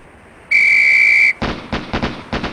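In the Police Quest SWAT game, a shrill whistle signals the start of a police shooting drill, sounding as a single sustained blast. A rapid series of sharp gunshots follows right after it.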